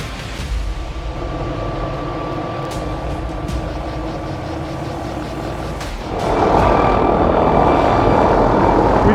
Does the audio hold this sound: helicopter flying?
yes